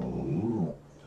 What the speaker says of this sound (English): My dog is a very much a guard dog